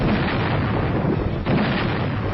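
Korean War artillery fire from a battalion shelling continuously: a dense, steady rumble of booms and blasts with a brief dip midway, loud throughout with no voices.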